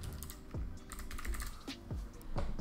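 Typing on a computer keyboard, a quick run of close, crisp keystrokes in uneven bursts, alone and without speech.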